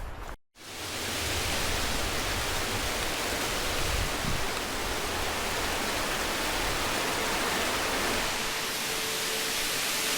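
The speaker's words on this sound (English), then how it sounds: "over here is the big waterfall that everyone takes photos of" A big waterfall at the end of the Earnslaw Burn track near a glacier, heard as a dense, unbroken roar of falling water, loud and steady after a brief dropout at the start.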